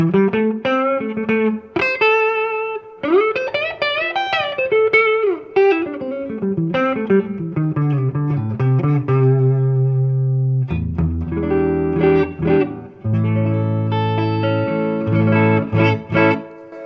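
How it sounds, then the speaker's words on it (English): Electric guitar played through a Fender Tone Master Deluxe Reverb amp on its spring reverb channel, a melodic run of single notes and bends giving way to sustained chords, close and steady with a reverb tail and no talk. "Go to the spring reverb channel on this Tone Master"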